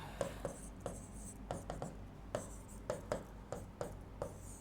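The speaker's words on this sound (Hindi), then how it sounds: "मैं थोड़ा सा इसको आपके सामने लिख देता हूं" Marker or chalk strokes on a classroom board during a Hindi grammar lesson, a steady run of short scratchy taps and squeaks in quick irregular bursts, close and fairly quiet, with no talking.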